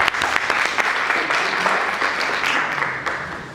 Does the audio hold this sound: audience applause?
yes